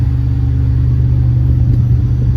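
A 1995 Mitsubishi 3000GT, burning oil after an engine rebuild, runs with a loud, deep, steady rumble close by, its revs held fairly constant with a slight swell near the end.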